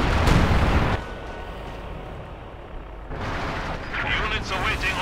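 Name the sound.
howitzer artillery fire in Company of Heroes 2 video game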